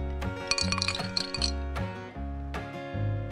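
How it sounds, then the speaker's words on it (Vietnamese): Ice cubes drop into a glass for a salted cream avocado macchiato tea, making a burst of bright clinks and clatters followed by a few scattered later clinks, close up over steady background music. "Tiếp theo chúng ta cho đá tới vạch ly thứ nhất."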